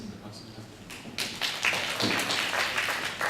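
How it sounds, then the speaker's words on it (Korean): Audience in a policy debate hall breaks into applause for an introduced panelist, faint at first, then a sudden burst of moderately loud, steady clapping from a modest crowd. "박수 부탁드립니다."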